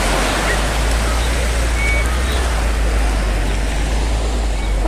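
Sea water at Deep Water Bay beach in Hong Kong sounds as a loud, steady rush of surf close by, with wind rumble and a faint hum beneath it.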